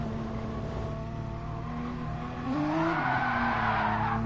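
Tires squeal as a GT race car oversteers in a sim racing game at Interlagos, a steady engine drone rising into a louder tonal skid midway through, with no talk over it.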